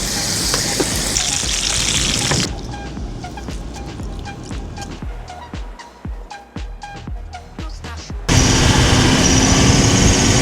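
Lamb chops fry in olive oil in a hot pan, a loud close sizzle at the start and end with crackles and pops between.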